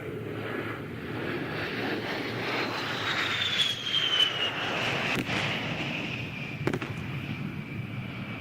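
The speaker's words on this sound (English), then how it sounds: "Major Johnson is now performing a jink-out maneuver" An A-10 jet flies an airshow demonstration maneuver, its engine roar sustained and distant with a slowly shifting whine and wind-like rush, plus a couple of sharp cracks partway through.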